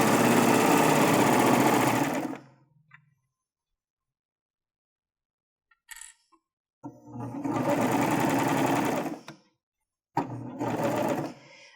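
A sewing machine stitches a drawstring backpack seam in three separate bursts of rapid, close mechanical whirring, with silent pauses and a few faint handling clicks between them.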